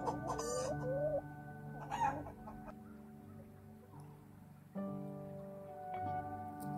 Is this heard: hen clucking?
yes